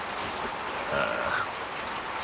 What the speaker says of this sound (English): the rain's a bit hard and I'm wet